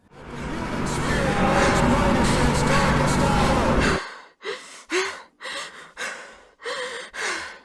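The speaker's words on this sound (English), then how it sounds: "you can hear a woman's breath get more and more exasperated" A woman's breathing grows more and more exasperated in a video game cutscene. Her gasping breaths come close and loud, first under a dense rushing wash of noise, then alone as a run of sharp, uneven gasps.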